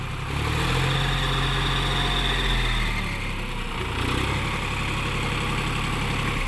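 A John Deere 5045D tractor, a 45-horsepower diesel, running at a steady idle up close, with a continuous low rumbling drone and a faint higher whine.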